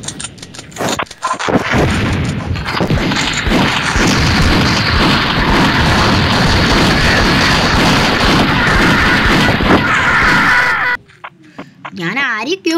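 Rapid gunfire and explosions from the video game Mini Militia form a dense, loud barrage of booms and shots for about ten seconds, then stop abruptly.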